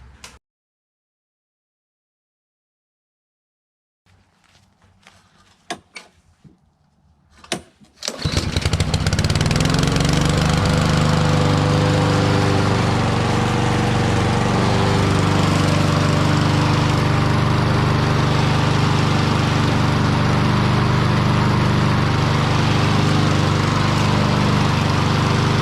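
A push lawn mower, freshly serviced and filled with non-ethanol gas, gets a few pull-start attempts with brief sputters, then roars to life and runs at a loud, steady drone close by, with no talk.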